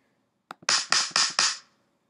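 A snare drum from the Logic Pro X Drum Kit Designer: a couple of soft taps, then four crisp, bright hits in an even rhythm, each decaying quickly, played alone and close.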